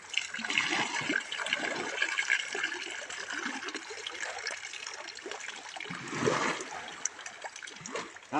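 Freshly caught fish (danggit) are rinsed in flowing water at the shore, a steady close splashing and trickling throughout, with faint voices in the background.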